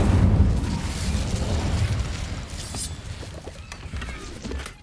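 An Incendio fire spell goes off in Hogwarts Legacy with a loud, rumbling burst of flame that opens strongly and then crackles and roars on at a steady, slightly fading level over several seconds.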